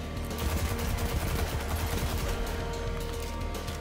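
Dense, continuous automatic gunfire from the video game Destiny 2 rattles loud and near throughout, with rapid overlapping shots and no talk.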